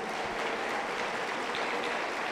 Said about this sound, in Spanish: aplauso contento para el Señor Jesús